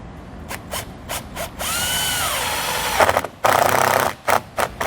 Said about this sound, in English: the butyl tape will actually help hold it in place while we put our screws in